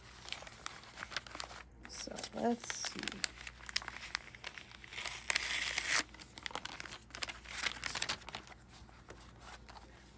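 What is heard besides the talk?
crinkling paper wrapping being opened on a notebook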